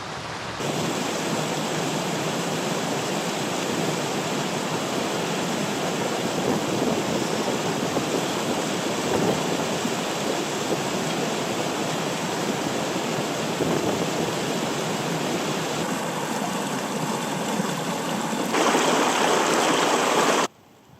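A mountain river in Donegal's Bluestack Mountains rushes steadily nearby, a dense continuous wash of flowing water that stays loud and even throughout, with no voices.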